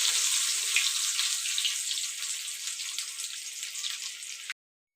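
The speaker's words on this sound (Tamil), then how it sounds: "இப்போ நம்ம அதை எண்ணெயில் போட்டு ஃப்ரை பண்ணி எடுத்துக்கலாம்." Eggs fry in hot oil as a bright, dense hiss with crackling that holds steady and close, then cuts off abruptly just before the end.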